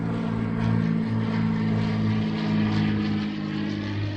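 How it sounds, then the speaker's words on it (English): Military training aircraft flying near an active military airport, a steady loud propeller-engine drone with a strong low hum that holds throughout without pause. "There are plenty of training flights here for the new military pilots, so they will be quite noisy today."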